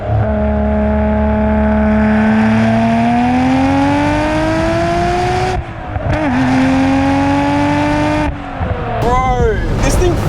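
A Nissan R32 GT-R engine revs hard and climbs steadily through a gear, then drops briefly at each shift before pulling again. The drone is loud and close, like from inside the car, with a voice heard faintly beneath it.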